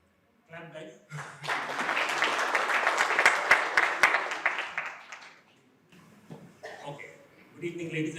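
Audience at an energy-app launch event breaks into applause that builds to a full, close wash of clapping with a few sharp individual claps, then tapers off as a voice and some murmuring return.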